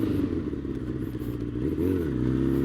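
A motorcycle engine runs close by while the rider works the clutch to warm the tires before wheelies. It gives a rough, throbbing low idle that swells into a short rev near the end.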